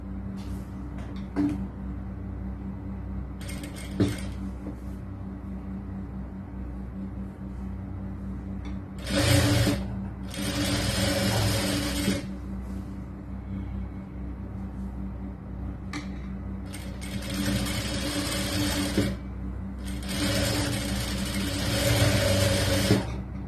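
A sewing machine stitches the folded edge of a sleeve on a lined churidar top, running in several bursts of fast whirring with pauses and low mechanical hum between them.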